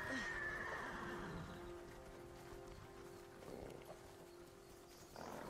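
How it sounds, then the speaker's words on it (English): Horses neigh and whinny in Ghost of Tsushima, starting with a loud call and followed by softer hoof clops and snorts over a steady ambient hum. "Follow the horses, I guess."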